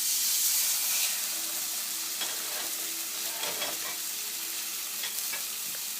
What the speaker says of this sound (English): That's exactly the sound that you want to hear when you first lay your steak on the skillet